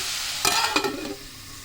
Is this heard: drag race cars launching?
no